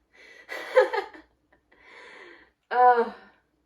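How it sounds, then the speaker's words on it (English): A person catching their breath: a few heavy, ragged breaths and a gasp heard up close in otherwise quiet surroundings, with a brief voiced sound at the end. "Let me catch my breath real quick"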